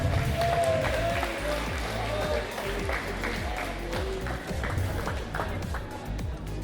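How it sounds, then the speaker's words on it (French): An audience applauds the winners of a Level Up gaming tournament, steady clapping in a large hall running throughout beneath a booming low background hum. "On peut les applaudir."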